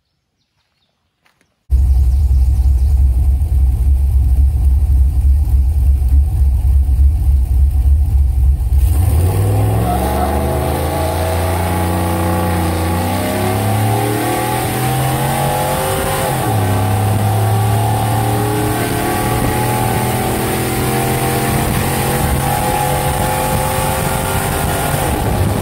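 A cammed LQ4 V8 in a truck with a Truck Norris cam, long-tube headers and a single 3-inch exhaust starts and idles with a loud lopey chop, then revs up and down repeatedly, close and dominant.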